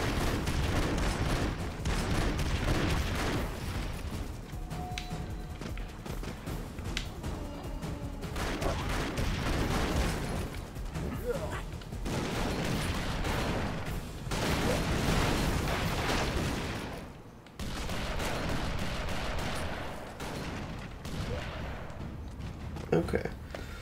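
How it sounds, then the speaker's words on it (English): Rapid gunfire and explosions from the Broforce video game, dense and loud for most of the stretch with brief lulls, a person talking over the action. "Shaved off his head with a bullet."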